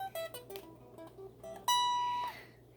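An extended minor arpeggio on guitar, single notes picked one after another in a quick run, then a final note rings out and fades, heard alone.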